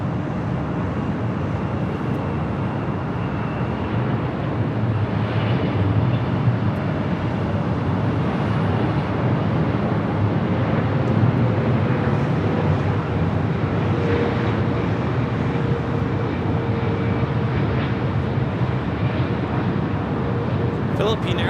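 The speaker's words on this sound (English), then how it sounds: "Philippine Airlines Flight 102 coming in from Manila on the 777-300ER." A Philippine Airlines Boeing 777-300ER arriving at LAX from Manila gives a steady, broad jet roar that holds for the whole stretch, fairly loud and distant, with some wind buffeting.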